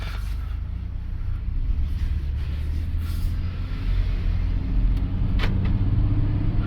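A Ford Expedition's engine runs steadily after a throttle body replacement, a close, continuous low rumble with a faint higher whine and a few brief clicks, no voices.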